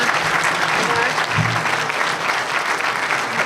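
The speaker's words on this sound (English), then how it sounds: "Give a round of applause." An audience at a City Club talk by the Illinois EPA director breaks into loud, sustained applause, a dense, even roar of many hands clapping close by with no letup.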